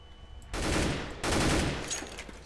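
A flashbang grenade in Counter-Strike on the Dust2 map goes off as two close, loud bursts of broadband noise back to back, fading into a brief ringing tail.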